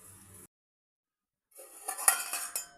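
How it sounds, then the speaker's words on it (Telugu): A spoon stirs dal with turmeric in a pot: a short scrape, then silence, then a run of metallic clinks and scrapes against the pot, close up. "పసుపు తాలు పెట్టుకొని మంచిగా కలుపుకోవాలి"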